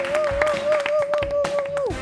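Studio audience applauds after a TV segment, a lively burst of clapping with a sustained whistle-like tone running through and a few voices mixed in.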